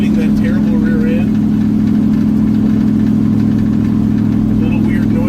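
A Pinchero car with its exhaust routed up the front and an otherwise stock build idles loudly and evenly, a deep throbbing drone held at a steady level throughout, with a voice briefly heard over it at the start.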